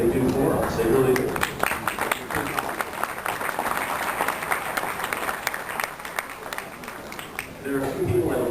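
An audience at a Michigan USSSA softball Hall of Fame induction gives a sustained round of applause, dense clapping filling the room at steady volume with faint crowd murmur underneath.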